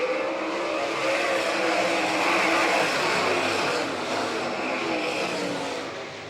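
Race cars compete on a track at an All Stars vs NCRA event in Doniphan, Nebraska, with engines sustaining a loud, continuous roar that swells and then eases slightly toward the end.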